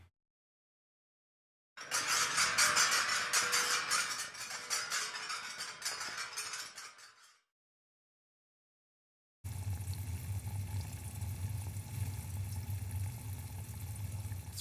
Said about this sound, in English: This particular one is the sound of boiling water inside the Waterphone itself.